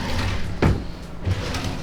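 A drawer in a hotel room slides and knocks shut in two quick close thuds, with no talk over them.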